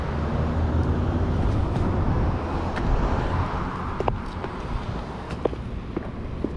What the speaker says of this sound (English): Wow, there's a lot of traffic out here.